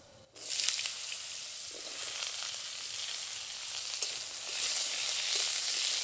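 Cut potatoes sizzle and fry in hot oil with a bay leaf, a dried chili and a pinch of five-spice seeds, a steady loud hiss that starts abruptly and holds without talk.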